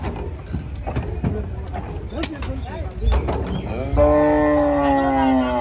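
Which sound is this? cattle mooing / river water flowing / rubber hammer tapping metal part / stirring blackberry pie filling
cattle mooing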